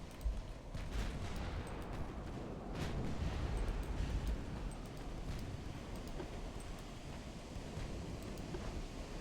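Naval gunfire in the warship game Ultimate Admiral Dreadnoughts, a continuous rumbling battle din with scattered distant booms and sharper shots, swelling briefly louder midway.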